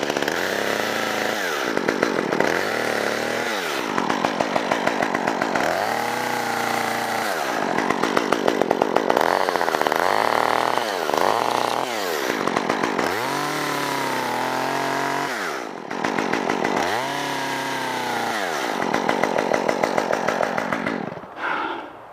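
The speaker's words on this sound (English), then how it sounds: "This saw is got a top handle instead of the handle being back here like a normal chainsaw" A top-handle chainsaw runs close by, revving up and dropping back again and again in an uneven rhythm, loud and alone with no talk.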